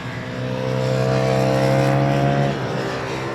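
A Ducati Panigale V2 with a V-twin engine growls on a racetrack, its loud, rising, harmonic drone building steadily for a couple of seconds before easing off.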